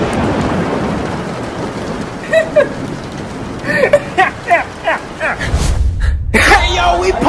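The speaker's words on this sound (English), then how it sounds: "we partying in the rain" Heavy rain pours steadily at an outdoor party on a warm day, a loud, dense hiss filling the whole scene while people shout and talk excitedly over it.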